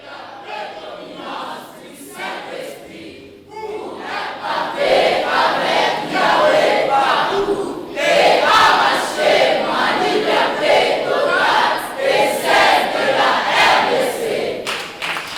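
A church congregation cheers and acclaims together, a loud, sustained crowd roar with shouts that swells after a quieter opening and stays full and dense to the end.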